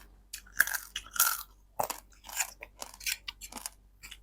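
Crunchy food chewed and bitten up close, a string of crisp crunches in uneven bursts, loud against a quiet background with no talk.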